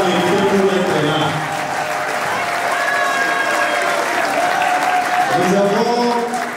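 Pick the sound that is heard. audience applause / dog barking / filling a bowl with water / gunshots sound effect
audience applause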